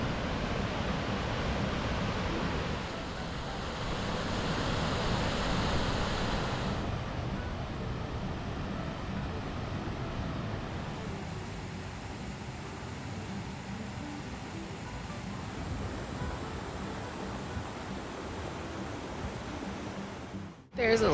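Sandstone Falls, a small 15-foot waterfall on a river in the Porcupine Mountains of Michigan's Upper Peninsula, gives a steady broadband rushing roar that holds evenly for about twenty seconds with no other sounds.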